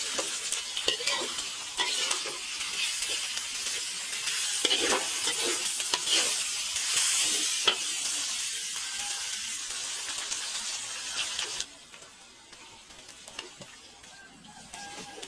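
Snake meat sizzles and fries in a pan with chili and turmeric, a steady close crackle with stirring scrapes that drops quieter near the end.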